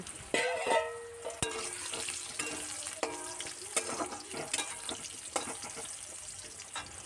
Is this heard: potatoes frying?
yes